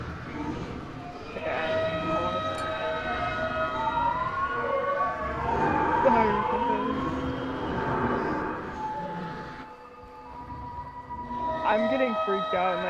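A siren in the Fallout 4 video game wails with rising and falling tones beneath a continuous rumble of game sound, moderately loud and sustained.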